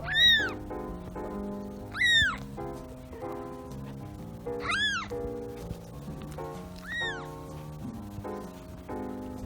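A pet cat that has just given birth meows four times in clear, drawn-out calls spaced a couple of seconds apart, close by, over a soft low background hum.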